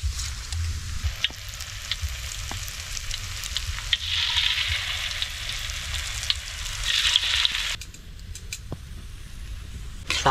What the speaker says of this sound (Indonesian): Itu kita goreng juga masih ada. Daun goreng aja,